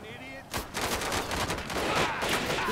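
Bursts of gunfire in a GTA 5 zombie mod, with several sharp shots and rattling volleys coming from a distance, growing denser toward the end.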